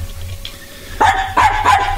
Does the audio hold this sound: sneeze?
no